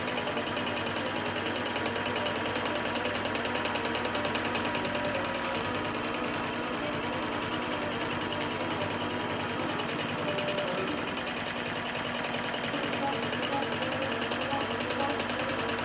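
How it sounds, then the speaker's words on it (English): An iQ quilting machine stitches a fabric applique, giving a continuous, even mechanical whir with a rhythmic stitching pulse that runs the whole time, close and steady, with no talking. "As it's stitching, of course, the fabric is shifting"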